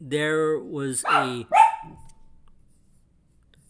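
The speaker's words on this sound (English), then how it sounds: "sorry, that was my dog." A dog barks close by, several sharp, tonal barks in quick succession, then fades to quiet as a voice speaks briefly.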